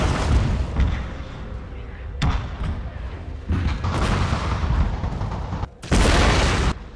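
Artillery fire in the strategy game Total War: Fall of the Samurai: a few heavy booming cannon blasts and their rumbling impacts break over a constant low battlefield din. The loudest blast comes near the end.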